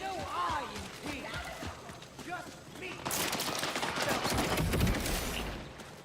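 AI gunners open fire in a video game with sustained bursts of rapid gunfire and volleys that grow dense and loud in the second half, while someone talks over the opening.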